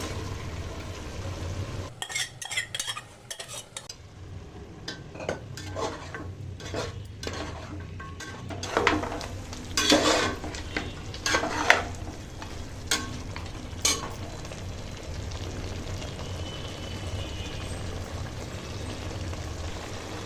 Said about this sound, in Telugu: ఇందులో ఉడికించుకున్న మటన్ వేసేసుకుందాం.